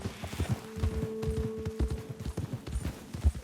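Horse hooves clip-clop in Red Dead Redemption 2, a steady close rhythm of hoofbeats on the ground, with a sustained low tone holding through the middle.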